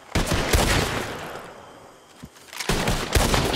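Video game gunfire during a standoff shootout, a dense, loud burst of rapid shots that pauses briefly and then resumes in a second heavy volley.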